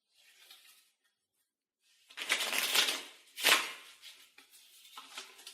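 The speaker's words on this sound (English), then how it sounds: "you can take the deck and shuffle them up here" Playing cards riffle and flutter in two bursts after a brief quiet pause, followed by softer card handling sounds, close and crisp.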